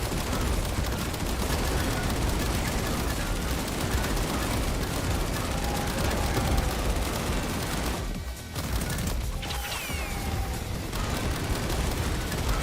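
Dense, continuous video-game gunfire with sniper rifle shots amid a near-constant barrage of rapid shooting and booming impacts, loud and busy throughout with a brief dip near the end.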